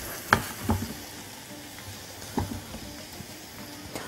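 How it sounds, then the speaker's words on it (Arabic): Halloumi cheese frying in a pan with a little water cooking off, a faint steady sizzle close by with a few sharp clacks from utensils against the pan. "جبنه الحلوم لما بتتحمر كده وتتشوح بتبقى حلوه قوي"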